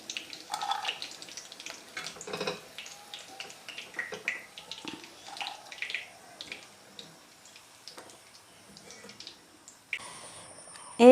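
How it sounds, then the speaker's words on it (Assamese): Soya pakoras fry in hot oil, giving off irregular crackles and sputters of varying loudness, with a sharper clatter near the end. "পকৰীখিনি ভাজি ল'ম"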